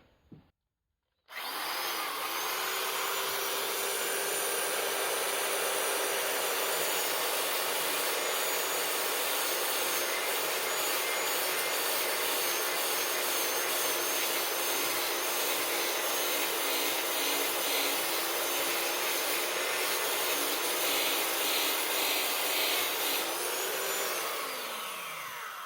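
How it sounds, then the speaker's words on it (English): Grinder cutting the fuller into a combat knife blade, a loud sustained abrasive whine that starts after a short pause and runs steadily for over twenty seconds. "I will basically just carefully grind in here"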